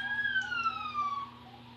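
A wailing police siren sweeps downward in pitch, heard from a short distance over a low steady hum.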